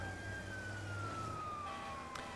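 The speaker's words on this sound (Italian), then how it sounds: "Però vedete, noi abbiamo acceso le sirene." A police car siren in the Watch Dogs video game wails steadily at moderate distance, its tone gliding slowly downward over a low engine rumble, with a brief sharp click near the end.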